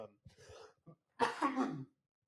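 A few soft breathy sounds, then one harsh, close cough from a man getting over a cold, lasting under a second, followed by silence.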